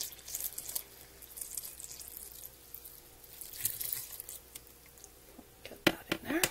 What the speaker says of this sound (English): I'm going to pour my hot lye over top just to get it to help melt the